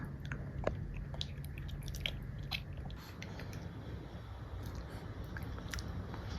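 A 7-month-old baby chews banana up close, with soft wet smacking and mouthing sounds in an irregular rhythm, faint and with no talking.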